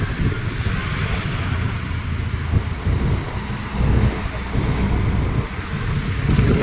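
Busy traffic on the NH 65 highway near Hyderabad at night: a loud, constant roar of passing cars, buses and trucks, heavy vehicles swelling in and out, heard close up from the roadside.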